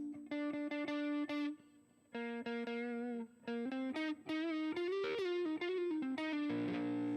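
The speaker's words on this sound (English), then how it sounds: "But it does have a distortion pedal." Electric guitar run through a distortion pedal plays a sequence of sustained, overdriven notes and chords with short gaps between phrases, loud and close, with no talking.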